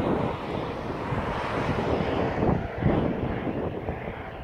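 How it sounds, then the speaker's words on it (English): A military aircraft, dark and camouflaged, passes overhead with a steady broad engine roar that swells slightly midway, mixed with wind buffeting the microphone. "That's like a military type of aircraft."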